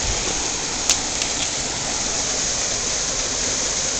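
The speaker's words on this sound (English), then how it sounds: "I'll show you the waterfall." Small waterfall at Three Sisters Falls in San Diego rushes steadily as broadband white noise, fairly close and constant, with a brief faint knock near the start.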